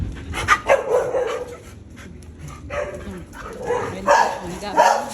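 Dogs bark and whimper in short, irregular bursts as they are being fed, close by, with several yips and barks coming in clusters, mixed with rustling and a person talking.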